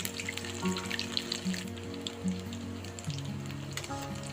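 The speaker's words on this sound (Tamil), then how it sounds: "இப்போ ஒரு பக்கம் ஃப்ரை ஆனதும் திருப்பி போட்டுக்கலாம். இது நல்லா கிறிஸ்பியாக நல்லாயிருக்கும்." Oyster mushrooms fry in oil with a soft, steady sizzle and crackle under faint background tones, fairly quiet and with no talk.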